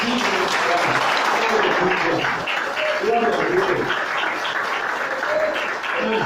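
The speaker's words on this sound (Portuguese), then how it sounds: "Só os salvos, pode aplaudir" A church congregation gives sustained applause, a dense continuous clapping with voices calling out and exclaiming over it.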